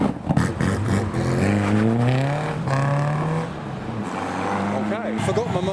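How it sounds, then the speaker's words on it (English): A Japanese car doing a burnout at a Supra meet, its engine revving hard and holding high, steady pitches with screeching tires, loud and nearby, while people talk over it. "There's another burnout."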